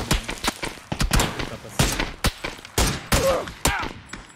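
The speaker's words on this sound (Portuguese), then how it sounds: "Tá levando tiro, relaxa." Rapid bursts of gunfire crack through a tactical shooter game round, repeated sharp shots and short volleys at close range, with players talking over the action.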